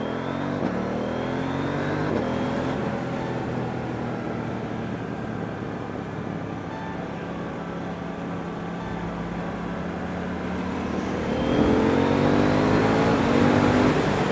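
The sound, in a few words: KTM Duke 790 motorcycle engine accelerating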